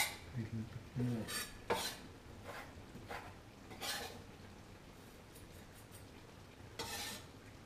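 Fake ground meat stirred in a pan: soft scraping and clinking of a utensil against the pan with a faint sizzle, quiet and close, with a few louder knocks at the start.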